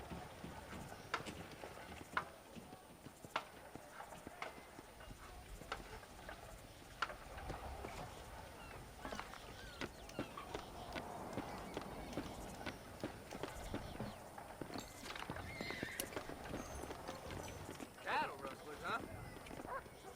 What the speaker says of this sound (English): You see those horses to the left by the building across the street?